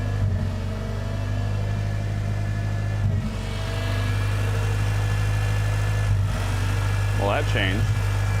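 A car engine running at high idle, a steady, loud, close low hum with a constant drone throughout and brief talk near the end.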